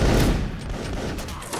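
A line of soldiers fires a musket volley in a multiplayer line-battle video game, a loud dense burst of overlapping shots that rolls off into a rumbling tail.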